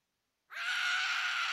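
A scream from a Hello Neighbor mod video game cuts in suddenly after silence and holds loud and steady to the end, a drawn-out strained cry with no other sound around it.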